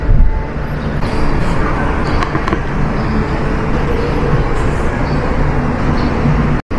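A loud, steady rumble of a high-speed train at a station platform rolling past close by fills the whole stretch, broad and continuous, before cutting off abruptly at the end.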